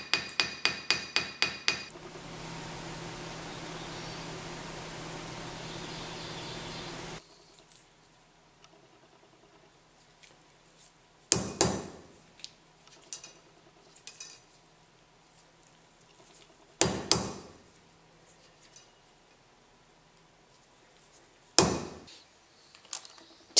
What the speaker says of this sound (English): The overlap will be hammered flat and drilled through